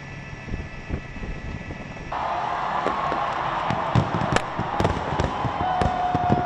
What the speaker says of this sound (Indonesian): Pertunjukan kembang api yang megah berlangsung di area Sungai Thames,